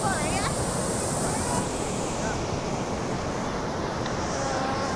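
Continuous rushing surf of waves breaking on Pantai Cemara beach, loud and steady with wind noise over the microphone.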